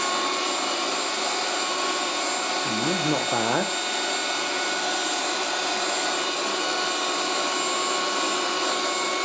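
A 1980s Moulinex Aspirateur No1 237/320 handheld vacuum cleaner runs at close range with a loud, steady whine throughout, while a voice speaks briefly over it.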